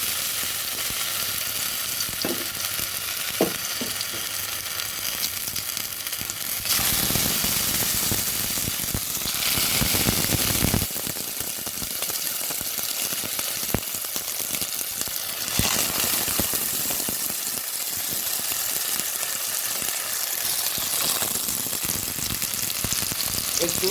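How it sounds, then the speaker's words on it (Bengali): Tomatoes fry one by one in hot mustard oil in a wok, giving a loud, steady sizzle with bursts of crackle that runs unbroken throughout with no voices. "ছেঁকা ফেঁকা করে টমেটোগুলো ভেজে নিতে হবে"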